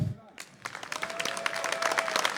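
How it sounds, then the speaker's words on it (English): An audience at a StarCraft esports tournament applauds, a burst of clapping and crowd noise swelling after a brief voice at the start, with a faint tone running beneath. "So give your hands together for Ignite"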